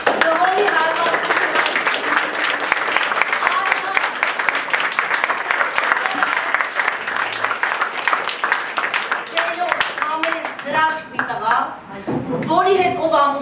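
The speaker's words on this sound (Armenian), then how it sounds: "Խնդրում եմ ուժեղ ծափահարեք" An audience at a last-bell graduation ceremony at Yerevan's School No. 112 in 2025 claps loudly and steadily for several seconds before the applause thins and voices take over.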